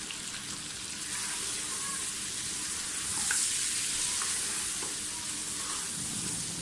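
Mutton fries in a pan with ground spices and tomatoes, giving a steady soft sizzle with faint stirring scrapes throughout, moderately quiet and without talk.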